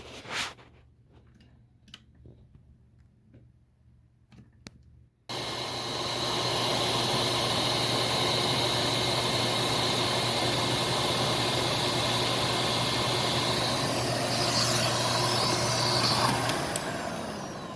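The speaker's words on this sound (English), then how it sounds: "let's test this first with the vacuum motor alone" A Windsor Versamatic upright vacuum's motor switches on after a few quiet seconds of light clicks and handling, then runs alone with a loud, steady whining roar close by.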